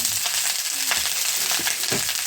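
Leftover cooked rice being stirred and fried in a pan, a steady sizzle running throughout with a few soft scraping strokes of the spoon at irregular moments.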